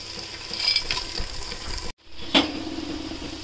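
Whole spices (cinnamon, cloves, cardamom, shahjeera) and masala sizzle in hot oil in a pan for chicken pulao, a steady close frying hiss broken by a brief silent gap and a stirring clatter.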